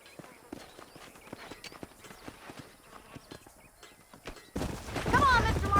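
Horse hooves clatter in a quick galloping rhythm across open ground in the western video game Red Dead Redemption, moderately close, before a louder burst of speech breaks in near the end.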